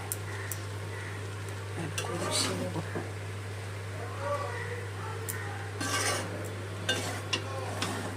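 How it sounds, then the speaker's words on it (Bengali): A spatula stirs Chinese-style fried rice with vegetables in a pan, giving steady scraping and tossing sounds with a light sizzle over a constant low hum. "দিয়ে ভালো করে মিশিয়ে নিয়েছি সবজির সাথে।"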